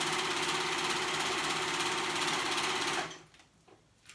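A serger sews elastic onto kids' pajama pants, a fast, even mechanical whirring and clatter that runs steadily for three seconds, then stops.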